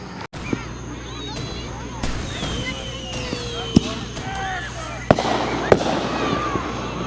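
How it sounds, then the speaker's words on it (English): Fourth of July fireworks at a Baptist church, a series of sharp bangs and crackles at varying distances with whistling rising trails, over a steady background hum. "Yay, fireworks."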